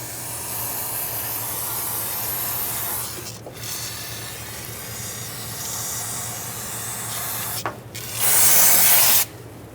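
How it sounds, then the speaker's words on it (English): Long, steady aerosol hissing of a brake cleaner spray, close and loud, with brief pauses and a stronger final burst. "spray brake parts cleaner on this to clean everything off"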